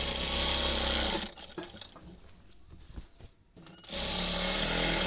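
Sewing machine stitching a jhura kantha quilt, with a loud steady mechanical whir that stops for a couple of seconds of quiet handling clicks and then starts running again, close by.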